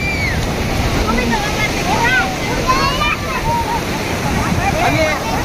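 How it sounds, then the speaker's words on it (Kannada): Sea waves rolling in at Om Beach, Gokarna, a loud continuous roar of surf and churning water close by, with faint voices of beachgoers mixed in. "ನೋಡ್ರಿಪ್ಪ ಇಲ್ಲಿ ತೆರಿ ಅಂತೀವಿ ನಾವು ತೆರಿ ಅಲೆ ಹೆಂಗ್ ಬರಕತ್ತ ನೋಡ್ರಿ"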